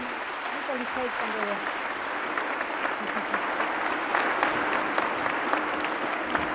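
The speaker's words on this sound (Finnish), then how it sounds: "Mutta ensin Kirstille vielä viimeiset aplodit" A lecture hall audience at a philosophy and systems-thinking seminar gives Kirsti Paakkanen a final round of applause, a thick, even patter of many hands that holds steady and swells slightly toward the end, with faint voices underneath at first.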